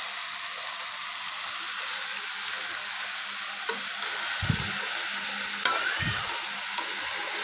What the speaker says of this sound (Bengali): শাক ডাঁটা খুব ভালোভাবে মিশিয়ে দিচ্ছি